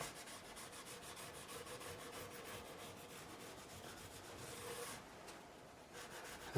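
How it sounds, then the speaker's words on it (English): Guitar frets on an ESP E-II Eclipse polished with 0000 steel wool, a soft, steady back-and-forth scrubbing at close range, with a brief pause near the end and no voices. "I'm going to finish off with steel wool. And this is where we really get that final shine."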